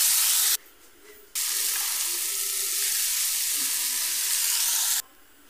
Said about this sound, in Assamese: এতিয়া বুট, ঢেকীয়া আৰু আলু ভাজি কৰিম